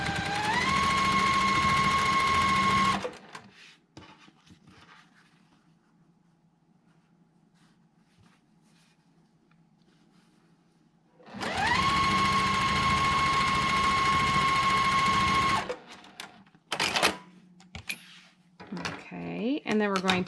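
Sewing machine stitching quilt block pieces with a quarter-inch seam, two loud bursts of steady whirring motor that ramps up in pitch, separated by a quiet pause, followed by clicks and handling noises.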